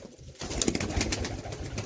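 Golden teddy pigeons of the Mian Nazir bloodline coo softly and close by, a low murmuring call over faint ambient noise.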